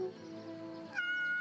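A cat in the video game Yes Your Grace gives one clear, drawn-out meow that rises at the end, heard close and alone with no talk.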